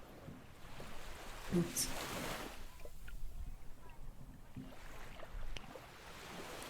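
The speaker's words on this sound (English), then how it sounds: "Can you not hear the water noises?" Waterside ambience at the shore, a broad steady wash of lapping water and breeze with faint knocks and creaks of a boat, while a voice speaks briefly over it.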